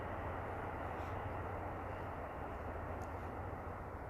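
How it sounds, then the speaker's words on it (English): A distant train passes near a riverside park with low brush, heard as a steady, broad low rumble that holds evenly throughout with no voices. "don't know if you guys can hear the train."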